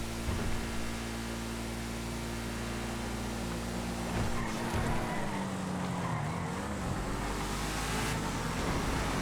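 A Tampa car driven in GTA FiveM gives a loud, continuous engine drone with a faint hum underneath; the engine pitch dips and wavers midway, then settles again.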